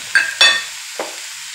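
Potatoes frying in a pan, heard as a brief faint sizzle with a few sharp metallic scrapes and clicks close by.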